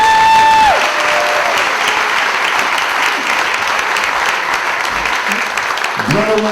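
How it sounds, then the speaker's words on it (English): Sustained audience applause at a film festival awards ceremony, a loud, dense roar of clapping that holds steady throughout, with a brief tone at the start and a little low rumble near the end. "Give him a round of applause."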